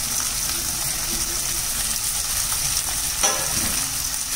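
Onions and curry leaves frying in hot oil, a dense, continuous loud sizzle throughout with a short clatter near the end, no talking.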